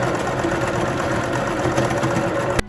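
A sewing machine stitches a 1/4-inch seam around the edge of a fabric pixie-style surgical scrub cap, a steady close mechanical whir that runs unbroken and loud, then cuts off abruptly just before the end.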